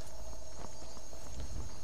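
Horse hooves clip-clop in a quick, regular walking rhythm in the video game Skyrim, fairly close, over a faint steady background hum.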